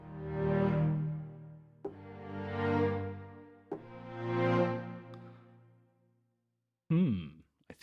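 Sunset Strings orchestral sample library played through its internal reverb: three long, swelling sustained string chords with a soft reverberant tail, a pause, then a brief louder phrase at the end.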